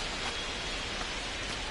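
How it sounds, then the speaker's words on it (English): Steady, dense rain pours down over a ballpark in MLB The Show 25, a constant broadband hiss with no pauses or voices. "This rain is not letting up."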